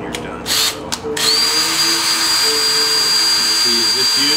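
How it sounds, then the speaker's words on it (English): Power drill working on a thin amplifier chassis: after a couple of short bursts, the motor settles into a steady, loud whine with a high sustained tone that holds to the end. "see, you just use the drill to do everything."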